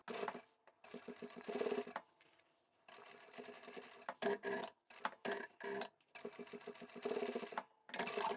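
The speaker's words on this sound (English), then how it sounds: "we only want to start sewing from the pleats." A sewing machine stitches across pleated tea towel fabric in several short, rapid bursts separated by brief pauses, its close mechanical chatter clear and alone.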